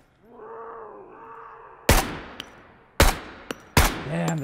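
Three sharp, loud gunshots ring out in the survival game SCUM, spaced about a second apart, each with a short echoing tail, following a wavering tonal sound beforehand.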